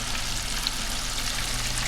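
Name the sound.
bluegill fish fillets sizzling while frying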